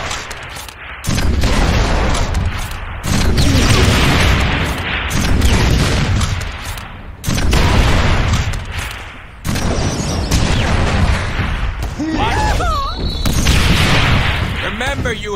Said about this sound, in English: remember, you have a teleporter to dodge those rocket attacks